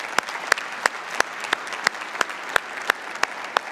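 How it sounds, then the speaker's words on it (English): Steady applause from a church congregation during a Sunday service, a dense wash of many hands clapping with a few sharper claps standing out at a regular pulse, moderately close and without speech. "I just want to give her a round of applause for"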